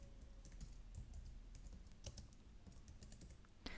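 Quiet typing on a computer keyboard during a Linux terminal session: a quick, uneven run of light key clicks, faint and close, with no voices.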